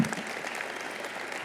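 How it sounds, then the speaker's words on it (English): Steady applause from an audience, a continuous dense patter of clapping throughout. "Let's give them a huge round of applause"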